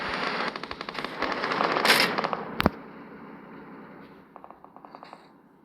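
Bursts of rapid automatic gunfire in a video game rattle at a distance, with a sharper single bang, then scattered quieter volleys fading out.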